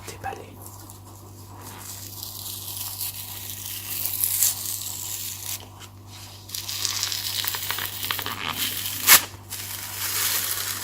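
A Pokémon booster pack being unwrapped, with soft crinkling and tearing of foil wrapper in close, quiet bursts, a sharper rip near the end, over a low steady hum.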